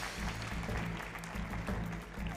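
Audience applause for Miss Yucatán at a televised Mexicana Universal beauty pageant gala, a steady wash of clapping from a large studio crowd under a low musical hum, even in level throughout.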